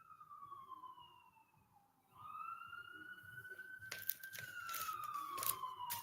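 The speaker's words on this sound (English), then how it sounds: "Let's let the siren go by." An emergency vehicle siren wails past outdoors, its pitch sweeping down and then climbing steadily as it draws nearer and grows louder, with faint crackling handling noise in the background.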